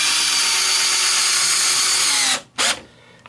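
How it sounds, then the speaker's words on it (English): A power drill drives a screw into a wooden spacer block while plumbing a washing machine, a loud steady whir that winds down, a brief pause, then a short final burst. "I'm going to finish screwing this one in place."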